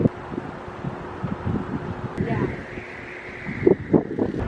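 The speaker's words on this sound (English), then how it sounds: "it is so unbelievably windy" Strong wind on a rooftop buffets the microphone in steady gusts, with faint background noise and rustling; a louder burst of blustering near the end.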